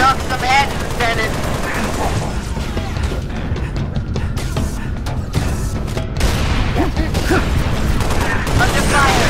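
Dense, loud gunfire fills a Halo Reach battle, with rapid overlapping shots and booms forming a nearly continuous barrage throughout.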